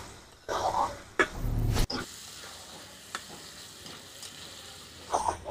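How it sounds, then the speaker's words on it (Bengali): Mutton being sautéed with sour yogurt in a pan for a special Bengali maharaja mutton dish, with brief bursts of sizzling and stirring between quiet stretches. "এই টক দইটা দিয়ে আমি আবারও কিছুক্ষণ কষিয়ে নেব।"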